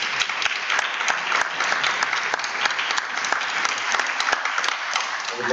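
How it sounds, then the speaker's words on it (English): Brisk applause at a board of education meeting, many hands clapping steadily and fairly close for several seconds with a few sharper individual claps standing out. "Another round of applause for Ms. Bova."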